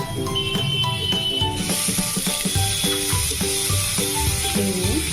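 Grated beetroot and spices are stirred in a hot frying pan for vegetable chops: a steady close sizzle with scraping stir strokes, over faint tonal background sounds and no voices.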